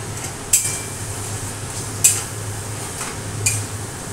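Three sharp clinks of a spoon against a pan while kochu greens cooked with hilsa fish heads are stirred, each knock well spaced over a low steady hum, with no talking.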